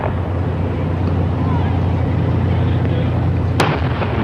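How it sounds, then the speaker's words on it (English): Cannon fire from a 21-gun salute welcoming President Kennedy in San Diego in 1963: a single distant boom breaks through a steady, heavy background rumble. "The 21-gun salute has started."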